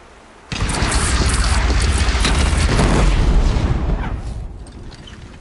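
A cannon fires in the video game Horizon Zero Dawn, one loud sharp boom that bursts in abruptly and then rolls off into a long fading rumble, with no speech over it.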